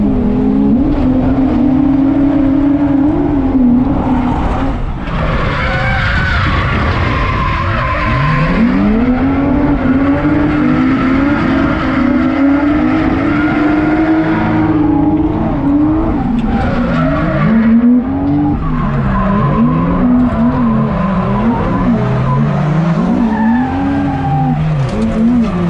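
A drift car laps the Ebisu circuit in Japan during the spring drift festival, its tires skidding and squealing in long wavering arcs over a loud, continuous engine roar that surges with revving throughout.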